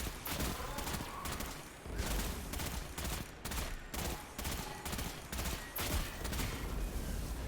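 Weapon fire, including a grenade launcher, in the Destiny 2 Legend Lost Sector Perdition: loud, dense bursts of shots and blasts that repeat rapidly and almost continuously, with no voices.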